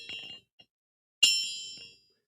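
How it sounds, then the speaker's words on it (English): A small handheld gong struck once, a bright metallic ring that sustains and decays over nearly a second, preceded by a brief rustle of handling. "I get to bring back the racism gong."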